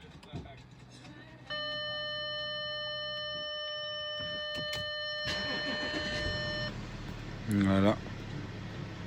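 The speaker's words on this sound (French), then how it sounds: "Écoutez le son moteur" A car engine starts on the ignition and idles with its original-sounding note, an Audi-style luxury model with an eight-speed Multitronic gearbox, steady hum after a chime-like dashboard tone, with someone talking over it.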